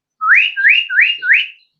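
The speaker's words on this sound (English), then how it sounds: "For example, the whistle of the guinea pig." A guinea pig gives a whistle call of four loud, clear rising whistles in quick, even succession against silence.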